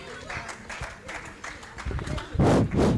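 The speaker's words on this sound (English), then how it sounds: "Round of applause for them as they proceed." An audience at a university institute's 40th anniversary ceremony claps for a college team as they proceed, uneven bursts of applause growing louder toward the end, mixed with voices and movement.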